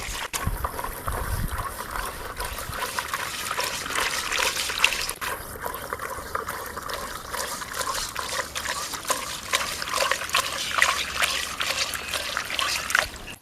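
Turtle meat rinsed with salt in water, a continuous close splashing and trickling with sloshing movements and occasional knocks, steady in level throughout.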